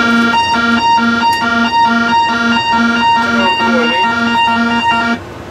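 A loud wailing siren like a fire engine's rises and falls in a steady repeating two-tone cycle for about five seconds, then cuts off abruptly.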